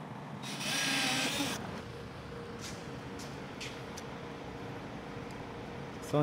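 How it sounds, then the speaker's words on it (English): A power drill whirs in a short, loud burst near the start, drilling a hole for a car's side skirt, then a quieter mechanical hum lingers with a few light clicks afterward. "we're just going to go ahead and drill this hole"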